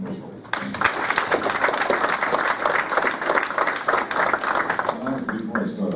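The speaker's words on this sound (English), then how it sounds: "Give a round of applause for Dan Bushel." Audience at a Tea Party political event applauds loudly for a local leader, a steady dense wash of clapping filling the room for several seconds, with a brief dip near the start before it swells.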